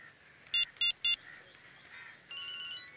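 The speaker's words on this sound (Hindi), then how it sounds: "रिंग जा रही है।" A mobile phone ringtone sounds nearby during a police search for a missing phone in a CID crime drama: three short, bright electronic chirps, then a steadier melodic tone. No one speaks.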